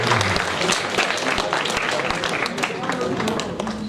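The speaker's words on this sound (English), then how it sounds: "Give him a clap." An audience at a development dialogue event claps in a dense, steady burst of applause lasting several seconds, with crowd voices mixed in.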